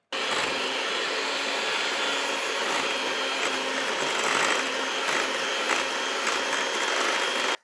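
Electric hand mixer beating a keto pumpkin cream cheese batter for cheesecake muffins, a steady close whirring drone with beaters rattling in the bowl, running continuously without talk.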